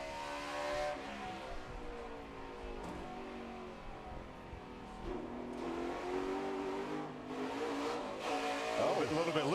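Mike Skinner's race truck laps Martinsville in final practice for the 2009 Kroger 250, its engine note rising and falling with sharp throttle blips, heard as a fairly faint onboard roar under commentary.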